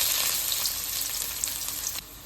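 Onions frying in groundnut oil, a dense bright hiss of close sizzling with faint stirring clicks, dropping abruptly to a quieter simmer near the end.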